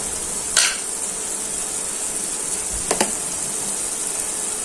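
Steady sizzling of ginger and garlic paste sautéing in a hot pan for an egg bhuna, a constant frying hiss with two brief scraping stirs of a utensil against the pan.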